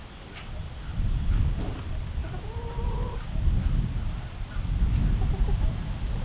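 Backyard chickens clucking while scratching through leftover microgreens, a steady stream of soft clucks and brief calls over scratching and rustling, fairly close.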